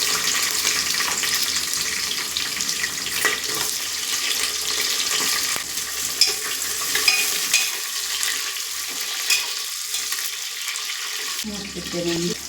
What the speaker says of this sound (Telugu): ఆనియన్స్ బాగా ఫ్రై అయిపోయాయి